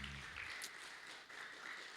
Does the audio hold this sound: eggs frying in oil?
no